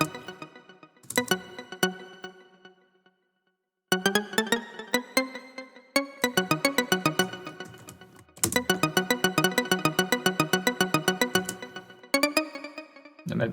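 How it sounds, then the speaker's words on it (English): A bright synth plays quick repeating arpeggio notes in a steady rhythm, with short gaps between phrases and a rising pattern near the end. "So now let's maybe add a nice ARP synth as well."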